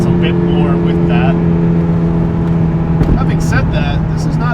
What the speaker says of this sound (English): You hear more of the mechanical engine versus just the exhaust